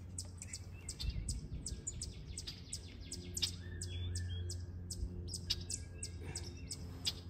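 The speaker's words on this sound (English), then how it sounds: "Hi, chickadee." A chickadee chirps outdoors on a spring day, giving a scattered series of short, bright calls at moderate distance over soft outdoor background noise, with no talking.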